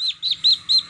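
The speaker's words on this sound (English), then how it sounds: "you will definitely hear the birds chirping" A small bird chirps in quick repeated high tweets, five or so notes in a steady rhythm, close and clear with no talking.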